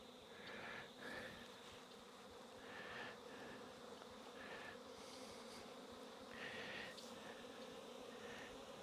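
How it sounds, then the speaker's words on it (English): Honeybees swarm around an apiary hive on an orientation flight, a faint, continuous buzzing drone with individual bees passing closer now and then, no voices. "Now you may recognize that as orientation flight"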